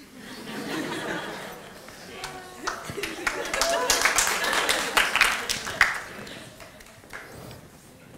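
A theatre audience applauds at a talk, scattered claps and a ripple of laughter and chatter rising and falling over several seconds, fairly close and moderately loud.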